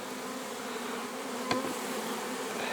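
Steady, dense buzzing of many honeybees working in a hive, close and continuous, with a brief knock partway through.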